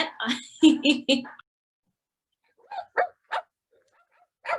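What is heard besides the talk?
toy puppy barking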